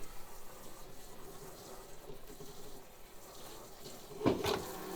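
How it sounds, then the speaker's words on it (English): A sink tap runs briefly to rinse a peel-and-stick carpet tile, a soft steady trickle of water close by, ending in a short louder splash near the end. "And just give it a little shower."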